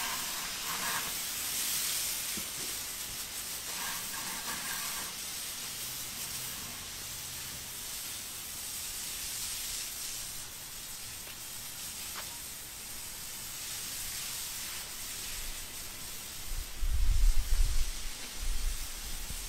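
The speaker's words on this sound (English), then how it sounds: "So that's your low pressure washdown gun." A pressure cleaner's low pressure washdown gun sprays in a steady, broad hiss that runs throughout, with faint knocks and a low rumble near the end, and no talk.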